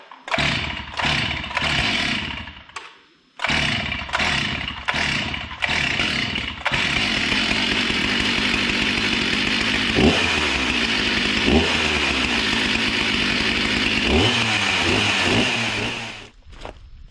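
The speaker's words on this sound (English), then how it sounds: "see if we can get this saw started for starters" A Stihl MS 361 chainsaw with a rebuilt carburetor and new fuel tank takes several short pull-start bursts, then catches and runs loudly and continuously, revving up and down close by, with no voices.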